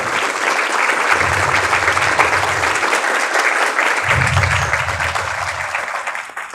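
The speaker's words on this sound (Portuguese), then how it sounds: "Eu gostaria de pedir uma salva de palmas para os dois." A hall audience claps steadily after a request to applaud two people at a university lecture, a dense, sustained round of applause, loud and close, with no speech over it.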